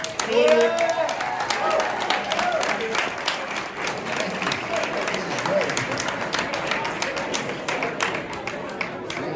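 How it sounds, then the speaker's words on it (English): Audience applause at a county GOP meeting, a crowd clapping steadily with individual claps standing out and some cheering, a voice speaking briefly early on over the clapping. "applause"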